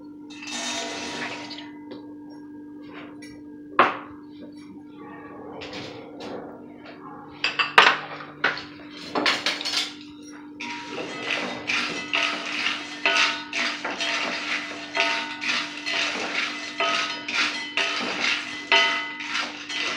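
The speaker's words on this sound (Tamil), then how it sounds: "ஓகேங்க, இப்போ கடாய் வச்சுட்டு நம்ம நிலக்கடலையை வந்து வறுத்துக்கலாம்" Peanuts dry-roasting in a kadai: sparse taps and scrapes at first, then a busier stretch of rattling, clinking and stirring against the metal pan, with a steady low hum underneath.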